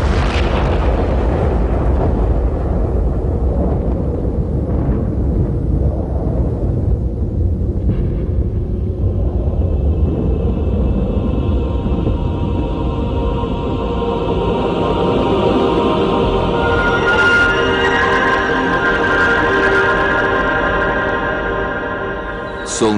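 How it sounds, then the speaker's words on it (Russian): A massive explosion in the Siberian taiga, the Tunguska event, rendered as a sound effect: a long, loud, deep rumbling roar that rolls on for many seconds before thinning into a ringing, droning tail. "Все прекращается после ужасающего взрыва в сибирской тайге."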